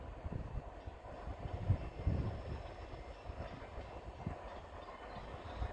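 A long Escanaba and Lake Superior Railroad freight train rolls past with a steady low rumble and faint clickety-clack of wheels on rails, continuous and fairly near, with no voices.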